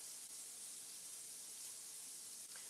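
Shrimp sizzling in a pan, a faint, steady hiss that runs evenly throughout with no talking.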